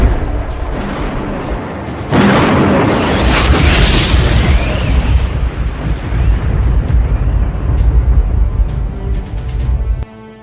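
Heavy Iranian missile explosions sound as a deep, loud, rumbling boom that swells and rolls for several seconds, with sharp bursts and crackles over it before fading.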